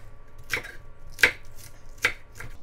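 Knife chopping vegetables lengthwise on a cutting board while preparing a spicy skate sashimi salad: four crisp, well-spaced cuts, close and distinct, with no voices.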